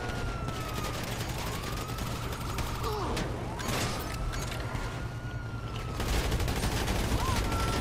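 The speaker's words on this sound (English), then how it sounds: "Shoot him up. You're good. Shoot him up." Gunfire in the video game GTA 5: dense rapid shooting mixed with wailing police sirens and mechanical noise, with excited players talking over it.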